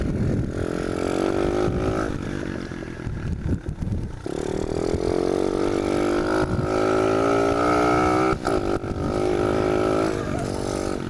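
A 110cc manual pit bike engine runs loud and close in third gear, its buzzing drone rising and dipping with throttle changes and a few brief lulls, with no talking over it.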